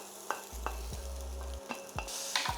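Ground beef mince fries in a pan with a soft, steady sizzle, broken by several sharp scrapes and clacks as it is stirred, with the hiss growing brighter toward the end.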